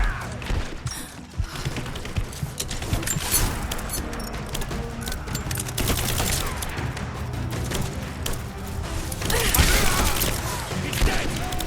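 Gunfire in the video game Rise of the Tomb Raider, with dense bursts of shots, thuds and crashes layered over a busy battle soundscape, loud and continuous throughout with occasional shouted voices.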